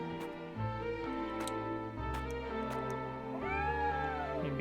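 A cat meows in the video game Triangle Strategy, a drawn-out rising and falling cry near the end, set against steady layered game music.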